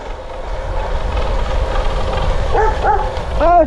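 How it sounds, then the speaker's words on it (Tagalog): Several dogs bark in a few quick yelps near the end, over a steady rumbling background noise, heard on a solo motorcycle ride in Sierra Madre. "Kaya lang maraming aso, dahan-dahan kayo."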